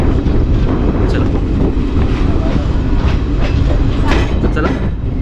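The Nagpur–Madgaon special express rolls along the Konkan Railway, heard from inside as a loud, steady roar with rhythmic wheel clatter and wind buffeting throughout.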